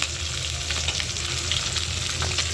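Fish heads frying in hot oil, a close and continuous crackling sizzle with small bursts of spatter and the occasional stir, steady in level from start to finish.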